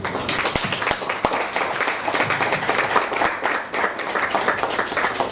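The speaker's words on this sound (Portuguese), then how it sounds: "Agora peço um grande e forte aplauso ao autor Tiago Moita." An audience at a book presentation in Lisbon applauds author Tiago Moita with loud, steady clapping from many hands and a few sharper, closer claps standing out.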